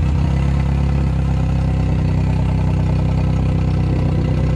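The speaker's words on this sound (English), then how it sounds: "this motor hasn't been started for 6 months, so this is going to be a cold start" A boat motor idles close by after a cold start following six months unused, in a steady, throbbing low rumble with a faint mechanical clatter, running unbroken the whole time.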